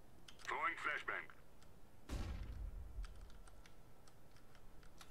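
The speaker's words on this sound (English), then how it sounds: "Throwing flashbang." A flashbang grenade goes off in a shooter video game: a voice speaks briefly, then a sudden loud, close burst fades away over a couple of seconds, with faint keyboard clicks underneath.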